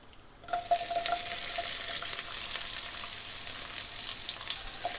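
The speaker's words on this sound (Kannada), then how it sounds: "ಈಗ ನಾನು ಅದ್ರಿಗೆ ಈಗ ಒಗ್ಗರಣೆ ಹಾಕ್ತಾಯಿದ್ದೀನಿ ಮೊದಲಿಗೆ ಈಗ ನೀರುಳ್ಳಿ ಹಾಕ್ತಾಯಿದ್ದೀನಿ" Chopped onions drop into hot oil for a tempering while cooking egg rice, and after a brief quiet moment they burst into a loud, steady sizzle that carries on without any talking.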